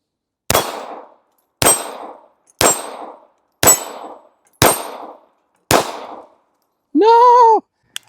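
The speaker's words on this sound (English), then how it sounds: "let's take a shot at the dueling tree." A Ruger Security 380 pistol firing six sharp, evenly spaced shots, each with a ringing decay, then a sustained metallic clang from a steel dueling tree plate, loud and close.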